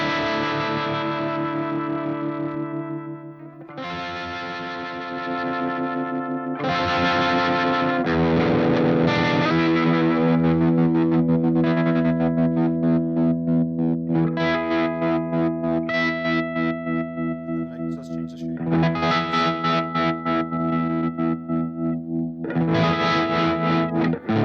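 Electric guitar runs through a Walrus Audio tremolo pedal, producing sustained chords that pulse in rapid, even volume throbs, with distinct phrases and brief gaps between them, loud and close with no voices.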